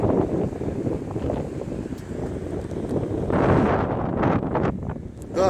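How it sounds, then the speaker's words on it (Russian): Strong wind at a kitesurfing spot buffets the microphone in heavy, rumbling gusts, swelling louder midway and roaring continuously with no voices. "Да, ох и ветер сегодня. Ветер страшенный."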